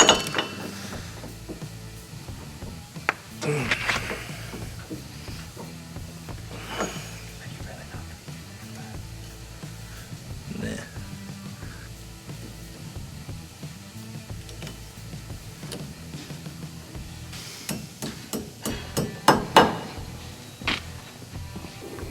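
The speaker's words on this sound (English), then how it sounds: "the kit comes with this 41mm socket that you need to crank this thing down" A 41mm socket cranks down a Super ATV portal gear lift, producing intermittent metallic ratcheting clicks and clinks under ongoing talk.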